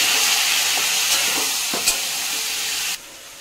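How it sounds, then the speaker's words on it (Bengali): Spice paste sizzles in refined oil with water while cooking for chickpea ghugni, a steady bright hiss with a few soft stirring scrapes. The hiss drops sharply near the end. "জল দিয়ে মশলাটা ভালো করে কষিয়ে নেব।"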